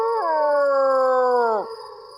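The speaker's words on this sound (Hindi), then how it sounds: "कुत्ते रो रहे हैं।" Dogs howling in a dark night scene: a loud, sustained, wavering tonal howl that holds steady and then slides downward before fading out, close and clear, with no speech over it.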